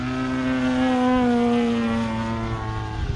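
The motor of an Extreme Flight Laser RC model airplane hums as a steady, even tonal whine, fairly close and loud throughout.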